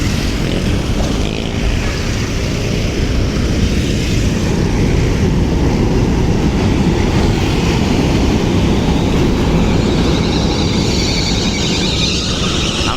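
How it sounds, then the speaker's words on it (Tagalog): A train rushes past along the Pasig River esplanade in Manila, a loud, steady roar of wheels and rumble filling the whole stretch without any break. "bilis ng train"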